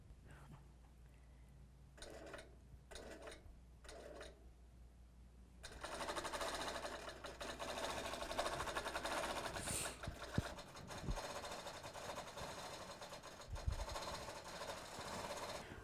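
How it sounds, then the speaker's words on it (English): Tin Lizzie longarm quilting machine with Quilt Magician stitching a fill pattern across a quilt, a steady mechanical whir that begins after a few short bursts and runs continuously, with a couple of brief clicks partway through. "Tin Lizzie and the Quilt Magician have quilted this entire area for me"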